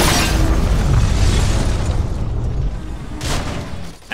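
Gunfire and an explosion from an attack helicopter in the racing game Need for Speed: The Run, a loud sustained booming roar that fades, then a fresh burst near the end.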